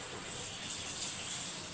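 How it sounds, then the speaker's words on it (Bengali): Water from a rinsed green chili bowl poured into a pan of mustard boal fish curry, a brief steady gushing splash at low level with no speech. "এবার কাঁচা লঙ্কার যে বাটিটা, এটা ধুয়েও একটু জল দিয়ে দিলাম।"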